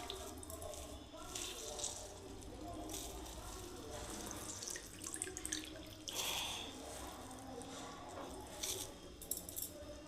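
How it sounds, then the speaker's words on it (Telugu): Bread slices are wetted with water and squeezed out by hand, giving quiet close drips, splashes and trickles in a kitchen, with a few soft clinks. "ఒకసారి వాటర్ వేసేసి ఇది గట్టిగా పిండేసేయాలి, మళ్ళీ వాటర్ లేకుండా."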